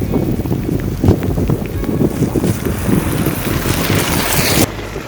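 Strong wind roars across the microphone while cycling on a bikepacking trip in Chile, a loud continuous rushing buffet that holds steady and then drops off abruptly near the end.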